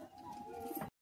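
Caged Madrasi high-flying pigeons coo in a steady, soft, continuous murmur close by, a low rolling call that runs unbroken until it cuts off abruptly near the end.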